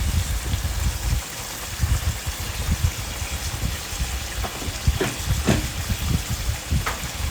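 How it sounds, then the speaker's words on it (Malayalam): Boiling water is poured into a crab roast in a pan, giving a continuous hissing, bubbling sizzle with soft splashes throughout, close and fairly loud. "ഇതിപ്പോൾ ഞാൻ നല്ല തിളച്ച വെള്ളമാണ് കേട്ടോ ഒഴിക്കുന്നത്"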